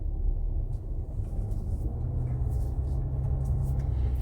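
Audi A4 3.0 TDi Quattro pulling away, its engine a steady low rumble that holds close and fairly loud throughout with no talk over it.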